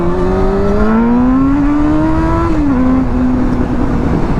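Honda CBR sport motorcycle with Ram Air intake, ridden on a cold night: a steady, close engine drone whose pitch climbs smoothly as it revs, dips briefly at a gear change, then holds, with constant wind rush throughout.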